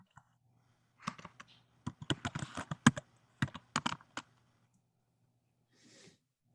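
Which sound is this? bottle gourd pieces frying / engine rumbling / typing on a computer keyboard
typing on a computer keyboard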